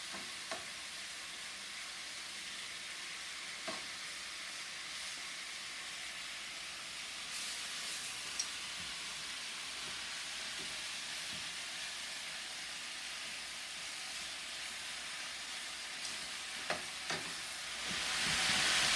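Cajun chicken pieces, just flipped, sizzle in a hot pan with a soft, steady frying hiss. It is fairly faint, with a few light clicks and a louder burst of sizzling near the end.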